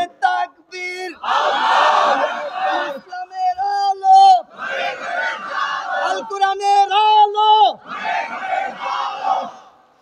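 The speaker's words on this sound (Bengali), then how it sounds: "জোরে আরো প্রায় 5 মিনিট তাকবীর দে" A large crowd at an Islamic religious gathering loudly chants takbir in repeated, sustained unison calls, swelling and falling in waves with brief pauses between phrases.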